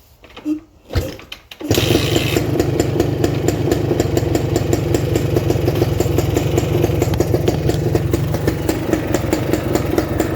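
A 1978 Yamaha DT400 motorcycle engine under restoration starts after a couple of quiet seconds and a few faint clunks, then runs close and loud at a steady, rapid idle that never stops.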